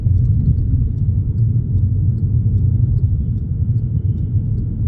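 A VW Scirocco R-Line in sport mode gives a steady, loud engine rumble under acceleration, heard from inside the car with no talk over it.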